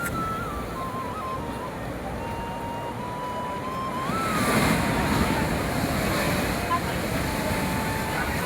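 Rough monsoon high-tide sea waves breaking at Old Digha beach, a continuous loud wash of surf with wind buffeting the microphone, swelling louder midway through, with a faint tonal hum running underneath.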